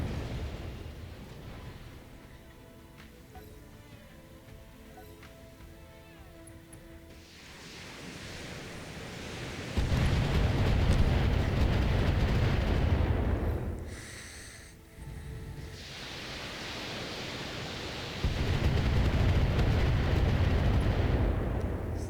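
Turrets firing in the BattleTech video game, heavy roaring blasts that swell in two long loud waves with a brief dip between, rumbling and explosive over steady background noise.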